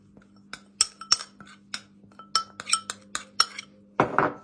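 Cottage cheese, dill and salt filling stirred in a bowl, a spoon repeatedly clinking against the dish in uneven taps, ending in a louder scraping clatter.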